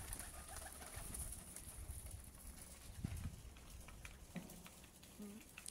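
Pigeons on a home rooftop coo softly and intermittently at a distance, a faint low murmur over a quiet outdoor background with light shuffling.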